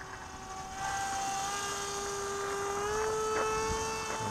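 Electric motor and propeller of an MIA EZ Gyro 1.25 RC autogyro with a high-mounted motor, flying overhead, a steady whining drone that rises in pitch and strength after the first second and holds.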